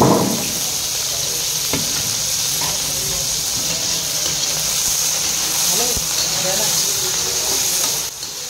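Vegetables, including cabbage, green chili, garlic, onion and coriander, fry in a pan in an Assamese home kitchen, giving a steady close sizzle and hiss that carries on evenly throughout.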